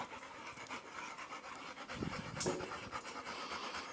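A dog pants steadily and quite close, with rapid rhythmic breaths continuing throughout in an otherwise quiet outdoor setting.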